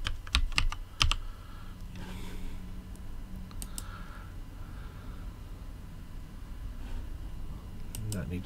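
Login username and password typed on a computer keyboard: a quick burst of loud, close key clicks at the start, then sparse scattered keystrokes over a low steady background hum.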